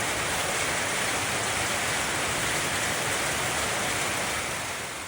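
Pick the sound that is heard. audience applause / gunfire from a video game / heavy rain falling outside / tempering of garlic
heavy rain falling outside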